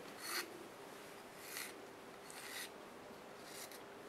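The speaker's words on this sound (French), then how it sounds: "je vais mettre un petit coup de lime pour essayer" A hand file rasps against a Rhodoid plastic strip in an eyewear workshop, making four short, distinct scraping strokes spaced roughly a second apart against a quiet background.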